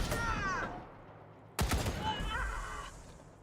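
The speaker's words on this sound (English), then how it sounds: "turret gets some shots in" Turret gunfire in the video game Wasteland 3: a sharp burst of shots fires midway through, among other game sounds.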